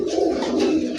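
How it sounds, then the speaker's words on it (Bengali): A paired domestic pigeon coos in a continuous, close, steady call, with a low throaty tone and no talk over it. "কত সুন্দর ডাকে, নিজের জোড়া খাইছে কবুতরটা"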